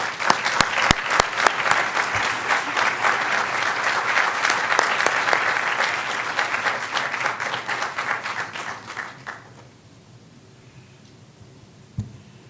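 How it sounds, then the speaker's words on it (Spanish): Audience applause at a conference welcoming Antonio Ledezma: dense, sustained clapping from a sizable crowd that thins out and fades after about nine seconds, leaving near-silence with one brief knock near the end. "Démosle la bienvenida con un gran aplauso a Antonio Ledesma."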